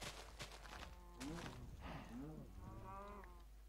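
Cows in the Minecraft video game moo in a few short, drawn-out calls, moderately loud, spaced across a quiet background with no talking.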